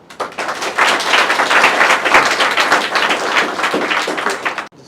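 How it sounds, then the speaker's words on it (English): An audience at a defence academy practice session breaks into dense, loud clapping that swells and holds for several seconds before stopping abruptly. "So now everybody can clap for them."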